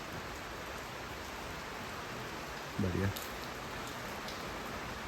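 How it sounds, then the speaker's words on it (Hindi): Steady rain falling outdoors on a misty hillside road trip, a continuous broadband hiss with one short voice spoken partway through. "बारिश हो रहा है।"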